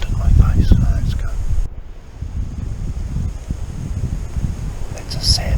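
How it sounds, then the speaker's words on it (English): Wind gusting across an alpine spur during a sambar hunt, a low, rumbling buffet on the microphone that eases briefly and then returns, with soft rustling and no clear talk. "I've got the wind in my face, so that's good."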